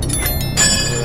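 A bright bell chime sounds once as a notification cue, ringing clearly over a low steady hum.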